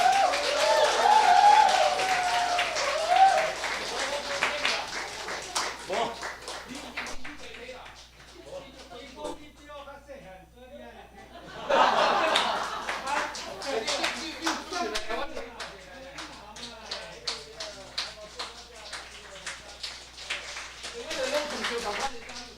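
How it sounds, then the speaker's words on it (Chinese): A church congregation at a Christmas praise service breaks into warm, sustained applause to thank an elder, the dense clapping swelling in the second half after a stretch of amplified talk, with voices mixed in. "我们用最大的掌声来谢谢蔡长老在这段时间里面"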